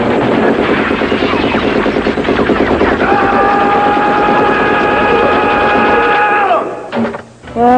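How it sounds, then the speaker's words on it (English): A toy Rambo machine pistol set to its noise mode blares a loud, continuous electronic rattle of rapid gunfire with a rising siren-like tone, close and alone, then cuts off abruptly. "if I set it this way, it makes a good noise"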